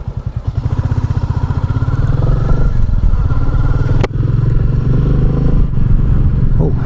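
A Royal Enfield Meteor 350 motorcycle with upgraded suspension thumps loudly as it pulls away, its single-cylinder pulses quickening into a steady rumbling ride with a sharp clatter partway through.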